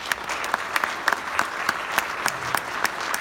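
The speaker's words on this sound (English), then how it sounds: "So can we please have a round of applause for that?" An audience claps steadily and fairly close, a dense patter of many hands that holds an even level from start to finish.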